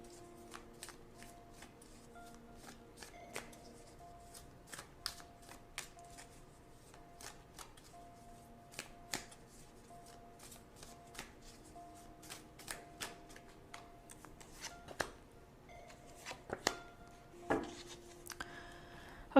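Tarot cards riffle and slap together in repeated soft bursts, close and quiet, with scattered light taps and rustling between shuffles.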